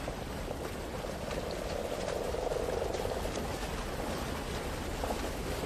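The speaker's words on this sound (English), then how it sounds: "Oh, they're frogs of some kind." Frog-like creatures on an alien world in the video game Lifeless Planet give off a soft, continuous bubbling croak chorus, faint and steady throughout with no talking over it.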